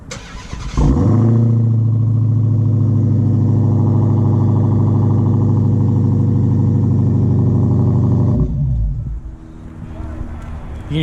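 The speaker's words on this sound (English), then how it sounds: "you can hear that exhaust is pretty loud" A 2018 Dodge SRT Hellcat muscle car with dual exhaust starts up and settles into a loud, deep, rumbling idle. After several seconds the engine is shut off and the sound drops away to quiet.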